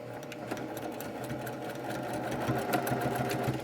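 Sewing machine stitching along the edges of a fabric mask, a continuous fast mechanical whir with rapid regular needle beats, close and steady throughout.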